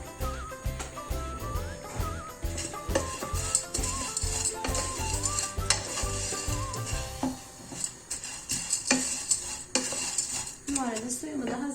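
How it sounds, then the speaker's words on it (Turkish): Erişte noodles stirred and toasted dry without fat in a cooking pot, a busy run of scraping, rattling spoon-on-metal clatter and light sizzle throughout, close and steady with no talking. "Önce eriştemi tencerede güzelce bir çevireceğim."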